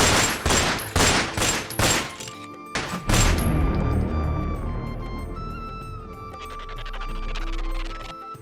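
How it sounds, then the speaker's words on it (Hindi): Gunfire fills a Hindi patriotic drama scene: several loud bursts of rapid shots in the first seconds, then a sustained low rumble and ringing tones as the action continues, with no speech. "मशीन गन चाहिए।"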